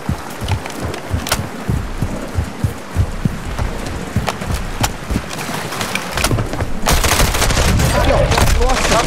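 Rapid bursts of video game gunfire from Call of Duty: Warzone 2.0 crackle close and loud in uneven clusters, building to a denser, sustained roar of shooting near the end.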